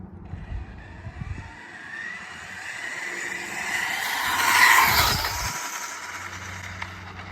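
A high-speed 150 mph RC car on a GPS-timed speed run gives a thin motor whine that builds to a loud peak near the middle of the pass, then fades away.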